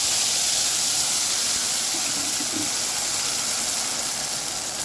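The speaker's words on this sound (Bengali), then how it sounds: "তেলের মধ্যে কালো জিরে ফোড়ন দিচ্ছি" Black cumin seeds tempering in hot mustard oil, a dense continuous hiss and crackle of sputtering oil at close range, steady from start to finish with no talk.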